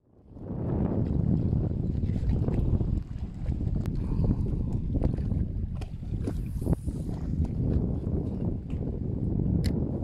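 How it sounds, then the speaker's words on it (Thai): Strong wind buffets the microphone on a boat on the Mekong River during a fishing trip, a loud, continuous roar and rumble with occasional knocks and no speech. "วันนี้แดดและลมแรงมากนะครับ"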